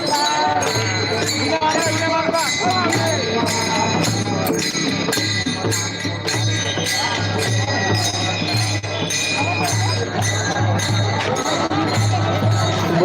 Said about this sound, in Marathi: या ठिकाणी आपण बघू शकतात ही प्रचंड गर्दी झालेली आहे